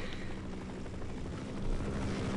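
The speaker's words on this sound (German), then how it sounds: "Oh, der Helikopter ist weiterhin da." Helicopter rotor and engine drone in the Half-Life video game, a steady broadband whir with low thumping that holds through the clip and swells slightly near the end, fairly quiet and continuous with no talk.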